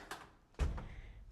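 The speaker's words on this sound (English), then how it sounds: "Close the door." A washing machine door is pushed shut at home before a laundry load, giving one solid low thunk partway through, preceded by lighter handling clicks, close and fairly quiet.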